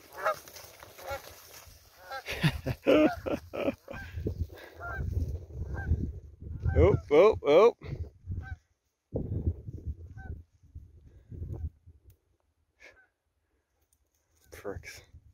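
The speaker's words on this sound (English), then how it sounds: "He's a bird." A bird calls outdoors during a summer hunt, in harsh honking bursts like a goose, heard close in a few clustered runs with pauses between them, while a person talks briefly nearby.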